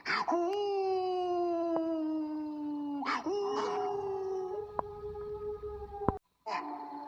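A dog howls in long, wavering wails, several drawn-out calls in a row with brief breaks, fairly close and clear over a quiet background.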